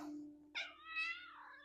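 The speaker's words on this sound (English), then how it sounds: "He's a rescue kitty" A rescue cat meows up close, a short drawn-out call followed by a second rising, wavering meow, loud and clear in a quiet room.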